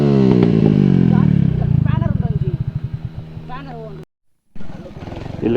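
A Suzuki Max100 motorcycle engine revs and labors off-road through mud, loud and close, with a rising then pulsing rhythm before cutting out briefly and resuming.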